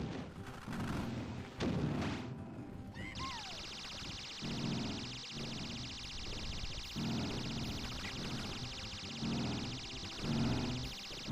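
Rapid-fire weapon in the retro shooter Hocus Pocus Doom, heard as a run of loud, punchy shots in repeated bursts roughly every second or two, with a steady high electronic tone ringing underneath through the second half.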